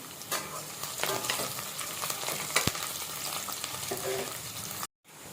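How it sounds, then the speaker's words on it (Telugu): Chopped onions and mint frying in a pan, a steady close sizzle with scraping stir strokes and an occasional clink, cutting off abruptly near the end. "ఆనియన్స్ ఫ్రై అవుతున్నప్పుడే పుదీనా కూడా వేసేసుకుందాం వీటిని కొంచెం సేపు ఫ్రై చేసుకుందాం బ్రౌన్ కలర్ వచ్చేలాగా"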